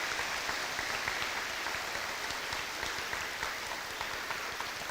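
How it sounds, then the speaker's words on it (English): Steady, dense applause from an audience honoring the Baxter Police Department at an elementary school dedication and ribbon-cutting ceremony, an even wash of clapping held at a moderate, fairly distant level throughout. "Could we give a nice round of applause to the Baxter Police Department?"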